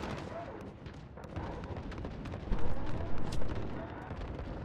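An explosion from a tank being destroyed by heavy machine gun fire in the video game Modern Warfare, a swelling boom midway through dense, continuous gunfire and battle noise, with players talking over it.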